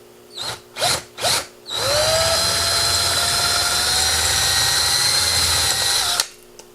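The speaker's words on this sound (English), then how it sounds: "you'll actually drill off the part of the shaft that you've bent over" Three short whirring bursts of a power drill, then a long steady high-pitched whine drilling off a mis-set rivet's shaft, lasting several seconds before stopping abruptly.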